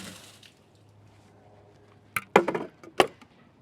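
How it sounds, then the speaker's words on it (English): Water dumped out after washing romaine lettuce on a rooftop: a few close, sharp splashes and clattering bursts follow a quiet stretch, ending in one last splash. "I'm just going to dump the water."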